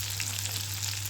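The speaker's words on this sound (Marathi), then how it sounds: "मसाला चांगला परतून घ्यायचा" Masala sautés in a pan with a close, continuous frying sizzle over a low steady hum, with no voices.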